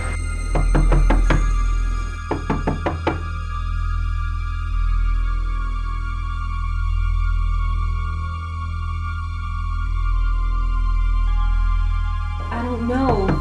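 A burst of several sharp knocks on a door, then a second volley a moment later, both loud and close over a steady low hum in a quiet room; another knocking flurry returns at the very end.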